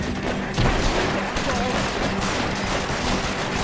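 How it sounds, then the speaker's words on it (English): Rapid bursts of gunfire from blind firing behind cover in the LA Noire video game, loud and dense, with scattered shots and clatter running throughout and voices speaking over them. "I do like the blind fire."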